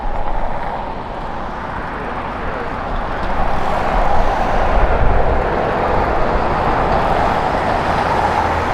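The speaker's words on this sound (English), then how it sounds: "they should be taking off just behind the Korean Air." Airliners taxiing and taking off at LAX: a continuous broad jet-engine roar that swells midway and holds steady, loud and fairly near, with no talk over it.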